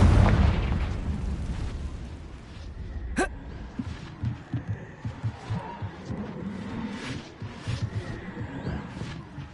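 In the Hogwarts Legacy video game, a Confringo spell explodes with a loud booming burst, then leaves rumbling debris and crackling impacts, with one sharp zap partway through.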